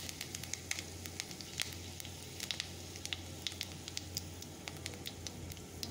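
Steady crackling sizzle of panch phoron spices in a little hot oil in a wok, with sharp pops scattered throughout, close and continuous.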